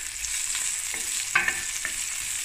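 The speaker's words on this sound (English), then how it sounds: "give it a nice stir" Minced meat with cumin and fennel seeds stirred in a pot over steady sizzling, with a few short scraping scrapes of the spoon standing out near the middle.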